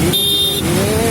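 A car engine hums close by with a rising whine as it passes, brief and loud, with a high electronic tone briefly layered on top.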